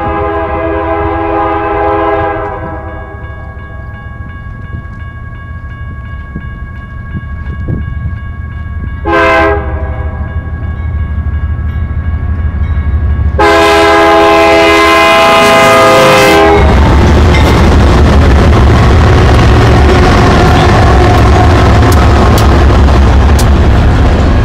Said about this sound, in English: this westbound international intermodal got up to speed fairly quickly coming up the hill